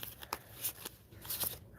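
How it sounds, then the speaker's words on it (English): A deck of tarot cards is shuffled close by, producing a quiet series of soft, papery riffles and light snaps in an otherwise hushed room. "I'm gonna shuffle these."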